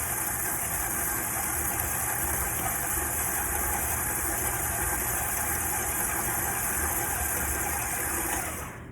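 A KitchenAid stand mixer with the paddle attachment runs at a higher speed through butter cookie dough, a steady, loud motor whir with a rhythmic churning that holds for the whole stretch, alone without voices.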